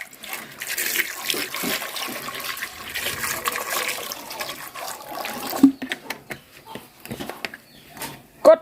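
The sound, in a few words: pouring brine for salted eggs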